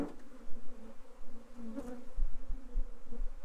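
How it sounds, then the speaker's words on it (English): Steady buzzing of honey bees with many drones, close to the microphone during an inspection of an overwintered Apimaye hive, a dense continuous hum that swells and fades slightly, with no voices. "A lot of drones in here too."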